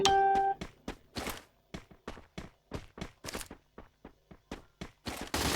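Rapid bursts of gunfire in the mobile shooter Free Fire, a string of sharp separate shots in uneven rhythm, some clustered close together and a final denser volley, loud and close with no talk.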